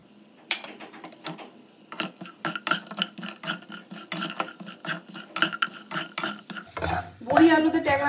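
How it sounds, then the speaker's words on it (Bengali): Bori, sun-dried lentil dumplings, frying in hot oil in a wok, with a spatula scraping and knocking against the metal in a rapid, irregular rhythm, close and fairly loud, and a brief swell of sizzle near the end. "এবার তেলে প্রথমে আমি এই যে বড়িটাকে একটু ভেজে নেব আগে"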